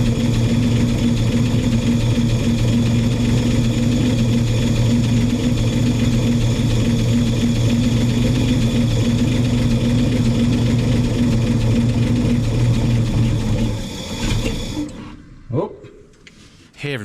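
A 1961 Chevy dump truck engine idles with a steady low rumble for about fourteen seconds before cutting out abruptly, followed by a few faint knocks and near-silence.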